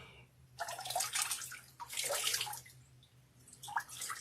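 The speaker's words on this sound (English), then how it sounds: "After I've done a warm rinse, I am now doing a cold rinse." Cold tap water runs into a bathroom sink for a face rinse, splashing in uneven bursts with brief pauses as hands cup and scoop it, close and quiet.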